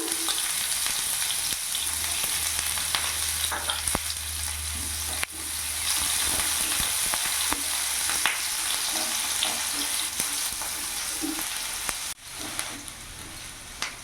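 Chopped onion frying in a pan with whole cumin, a loud continuous sizzle heard up close, broken by occasional scraping stirs and a couple of brief shifts in intensity.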